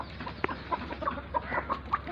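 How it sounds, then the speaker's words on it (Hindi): Several chickens cluck in short, scattered calls at close range while being fed, with soft rustling and low background noise. "ये मुर्गियों को भी हम अपना दाना दे रहे हैं।"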